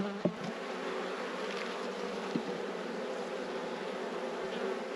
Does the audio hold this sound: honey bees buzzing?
yes